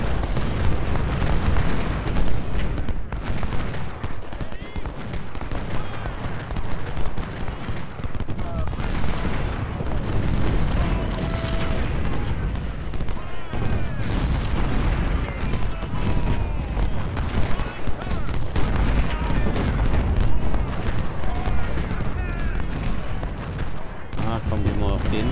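Cannon and artillery fire from the Civil War strategy game Ultimate General: Civil War, a dense, continuous barrage of booming shots and rattling gunfire that keeps up steadily and loudly throughout, with talk mixed in.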